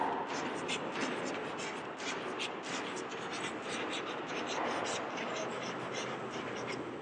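Someone writes on a board in a classroom, making a string of short, scratchy strokes in an even, busy rhythm at a moderate level.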